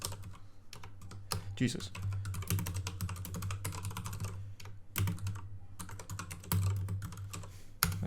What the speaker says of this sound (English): I'm sure it'll come up if I just type this in.